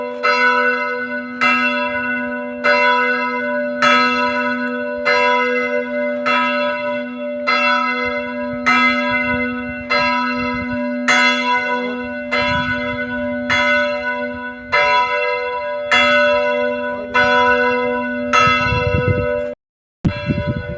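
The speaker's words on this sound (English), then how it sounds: "The bells just keep tolling." A church bell tolls on and on at a steady, unhurried pace, well over a dozen resonant strokes with sustained ringing hum between them, ending in a brief rustling handling noise.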